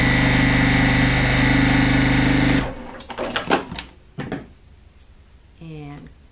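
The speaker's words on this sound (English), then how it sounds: "Let's continue sewing this." Sewing machine stitching a quilt block runs at a loud steady whir for a few seconds, then stops, followed by light handling clicks and a short voice at the end.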